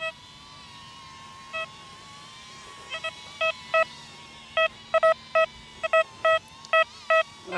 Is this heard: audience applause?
no